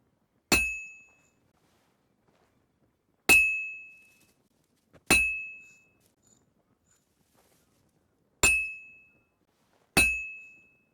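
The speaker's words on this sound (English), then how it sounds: "I have to hammer it more evenly" A blacksmith striking metal in a medieval forge in the video game Kingdom Come: Deliverance II, five sharp ringing hammer blows spaced irregularly, each one decaying into near silence.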